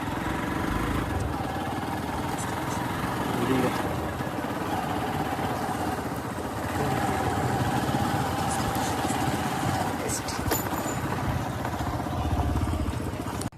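A scooter engine idles in a sunny temple parking area, a steady low mid-pitched chug running throughout with faint clicks and light background noise, fairly close.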